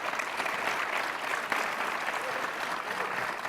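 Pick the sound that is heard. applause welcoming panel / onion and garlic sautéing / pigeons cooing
applause welcoming panel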